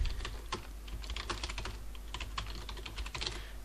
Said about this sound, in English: then you can type in the name for it